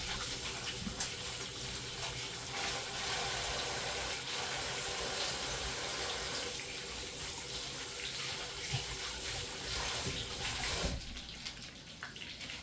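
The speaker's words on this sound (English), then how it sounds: "Now I'm just gonna wash my hands" Water runs steadily from a kitchen tap while hands are washed at the sink, a continuous hissing splash that cuts off abruptly near the end.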